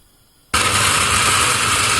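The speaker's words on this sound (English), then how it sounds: "Then you turn on your blender." A blender grinding ogbono switches on abruptly after a brief quiet moment and runs with a loud, steady, grinding whir that holds without letup.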